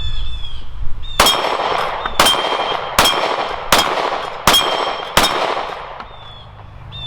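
CZ P-10S pistol firing at steel plates at 12 yards, six loud evenly spaced shots each followed by a ringing metallic clang, with no talk between.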